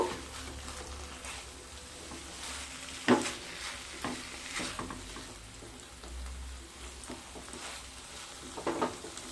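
Spiced teasel gourd sizzling in a pan as a spoon stirs and mixes it, a continuous frying hiss broken by scrapes and knocks of the utensil against the pan, nearby.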